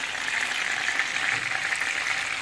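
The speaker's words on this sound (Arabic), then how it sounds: "نقليها مثل هالشكل" Shawarma meat frying in ghee and oil in a pan, a steady bright sizzle that holds evenly throughout, close and fairly loud with no talking.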